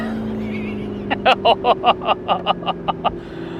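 A McLaren 675LT or 650S supercar runs on a woodland road with a steady low engine drone, then a rapid, regular train of loud rasping bursts sets in, evenly spaced like hard revving pulses.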